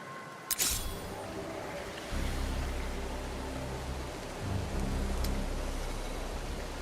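Steady rain falls in a rainy season in the strategy game Endless Legend 2, a soft continuous hiss with low rumbling underneath and a couple of brief sharp bursts early on and near the end.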